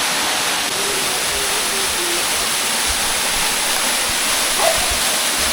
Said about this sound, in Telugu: పీతలు పట్టే ప్లేస్కి వెళ్ళే దారిలో ఒక చిన్న వాటర్ ఫాల్స్ ఉంది.